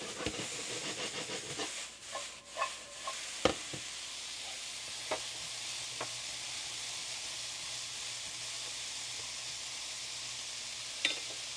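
Minced garlic and onions sizzle steadily in a HexClad pan, a constant close hiss of frying with a few sharp utensil taps and stirring clunks early on, then settling into an even sizzle without speech.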